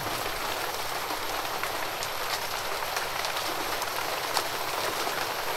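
Steady rain pours down on a surface, a dense hiss of drops with a few sharper pattering hits, no talking.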